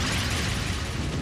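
A Mega Boot Cannon attack in the Trails of Cold Steel II video game erupts as a dense, continuous, roaring blast of explosive noise that fills the whole moment without any voices.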